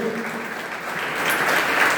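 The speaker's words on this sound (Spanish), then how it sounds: "Bríndale un fuerte aplauso a Jesucristo." A Spanish-speaking church congregation applauds during an evangelical fasting sermon, a thick continuous wash of clapping that swells slightly toward the end, loud and with no clear speech over it.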